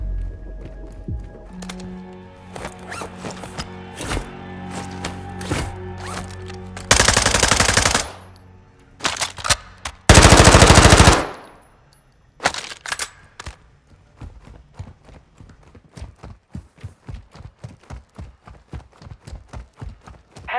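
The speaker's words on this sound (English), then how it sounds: "Assault rifle here." Assault rifle fire in Call of Duty: Modern Warfare II, with long loud automatic bursts and rapid close-range volleys, then a steady run of sharp single shots and short strings of rounds toward the end.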